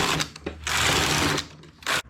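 A hand-operated knitting machine knits wide ribbing in wool, the carriage sliding across the needle bed in long, loud, raspy whooshing passes with brief pauses between strokes, close up.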